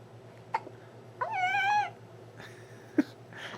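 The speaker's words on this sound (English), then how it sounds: "She's got the hiccups and she's playing." A baby with hiccups makes a few short, sharp hiccup sounds and a rising squeaky vocal warble in between, close and fairly quiet over a low background hum.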